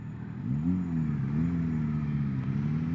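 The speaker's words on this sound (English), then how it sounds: "Off of the windscreen, I am getting a lot of wind to the sides of my head, even in full tuck." Steady rushing wind buffet around a rider's helmet on a 2025 Suzuki GSX8R motorcycle at speed, with the engine's low droning hum rising slightly early on and holding steady beneath, continuous and close throughout.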